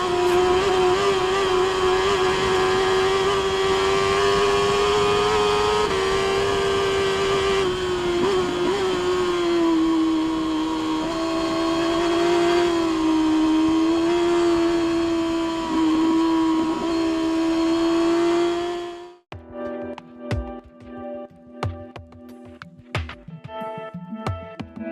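A high-revving Honda racing motorcycle engine, built for the Isle of Man TT, drones loud and steady for nearly twenty seconds, pitch wavering with throttle, then cuts abruptly into a choppier, sputtering idle.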